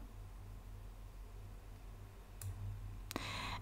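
Computer mouse clicks while working in an Excel spreadsheet, two short crisp clicks late in an otherwise quiet stretch of faint hum.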